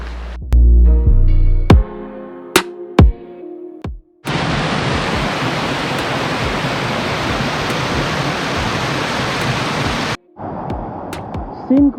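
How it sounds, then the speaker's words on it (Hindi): Loud, steady roar of Delari Waterfall in Raigarh, its rushing water filling the scene after a brief burst of other sounds, cutting off abruptly near the end. "पानी का जो साउंड है इतना मन मोह ले रहा है।"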